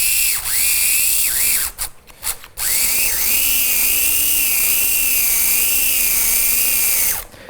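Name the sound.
old brushed electric motor running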